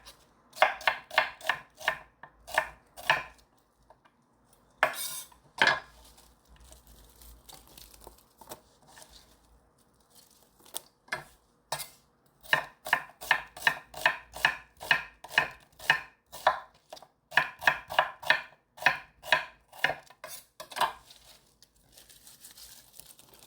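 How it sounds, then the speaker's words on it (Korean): Knife chopping vegetables into thin strips on a cutting board for kimchi seasoning, a run of quick, crisp, evenly spaced close strokes with a few short pauses between bursts. "채를 썰어서 넣어줄 거예요."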